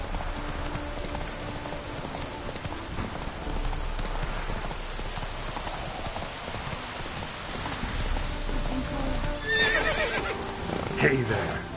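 Roach, a horse in The Witcher 3, neighs amid steady rainfall with clip-clop hooves, whinnies rising near the end over the patter of rain.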